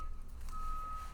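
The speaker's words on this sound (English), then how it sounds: "That would be the dump truck backing up." A dump truck backs up, its reversing alarm sounding as a steady high-pitched tone over low rumbling engine and traffic noise in the background.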